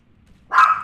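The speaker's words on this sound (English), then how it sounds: "annoys me that the dog is barking during our YouTube video" A single dog bark bursts in near the end, sharp and fairly loud against near silence, close to the listener.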